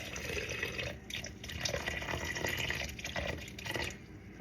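Water streams into a measuring cup at a kitchen counter while making sourdough bread, a soft continuous splashing pour with small fluctuations, fairly quiet.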